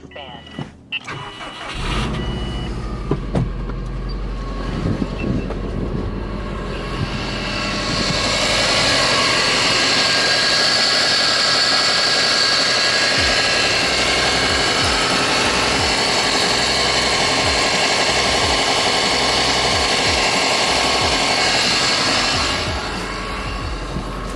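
A 2002 Subaru Impreza Bugeye engine cranks and fires, then settles into a steady, loud idle close by, with a few clicks and knocks early on and some brief talk.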